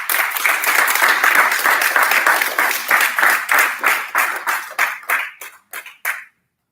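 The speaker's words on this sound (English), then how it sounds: "Put your hands together again for the awardees." Sustained audience applause at a medical college graduation ceremony, loud and dense at first, then thinning into separate claps that stop after about six seconds.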